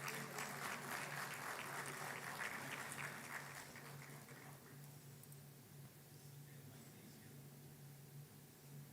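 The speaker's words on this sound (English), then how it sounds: "Please give them a big round of applause." Audience applause at a conference session in Pune, a dense sustained clapping that is loudest at the start and eases to a lighter, steady patter by the end, with no talk.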